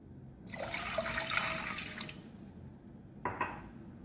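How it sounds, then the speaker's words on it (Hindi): Two cups of water poured into a pan to start a sugar syrup for shahi tukray, a close splashing pour lasting about a second and a half, then a shorter second splash after a pause. "2 कप पानी शामिल करेंगे।"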